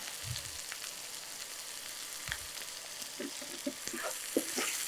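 Tomato and green chili frying in an oil-filled pan, a soft steady sizzle with a few scattered stirring clicks and taps, faint and close, no voices.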